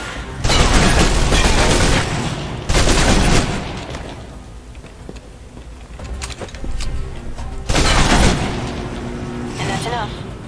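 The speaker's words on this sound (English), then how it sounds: "They're submachine guns." Submachine gun fire in the video game Alpha Protocol, heard as three loud bursts of rapid shots separated by quieter stretches of game ambience.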